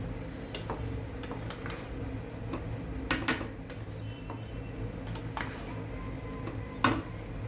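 A metal spoon scrapes and clinks against a cooking pot while cooked mint rice with carrots, potato, onion and tomato is lifted from the bottom; scattered sharp knocks and scraping strokes at close range, no talking.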